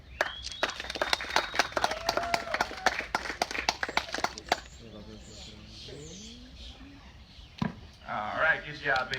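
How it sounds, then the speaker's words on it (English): An audience at a Florida alligator show claps in a dense, crackling burst that lasts several seconds and then fades, followed by a presenter talking. "Give the alligator some applause"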